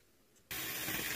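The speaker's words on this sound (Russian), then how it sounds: "Я сейчас снова отжала пахту. Вот я сейчас буду сливать." Buttermilk drained off homemade butter, a sudden steady rushing, splashing pour that starts abruptly after a brief quiet moment and continues loudly to the end.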